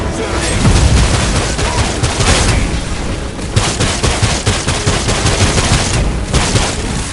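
Shooting in the video game Marvel's Guardians of the Galaxy: dense, continuous bursts of gunfire and booms over several seconds, loud and close, with voices calling out over the din.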